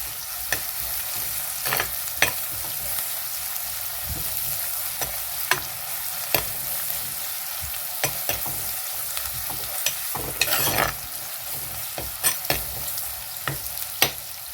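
Onions frying toward brown in a pan for a Mangalore-style mackerel dish, a constant loud sizzle with irregular spoon scrapes and clacks against the pan throughout.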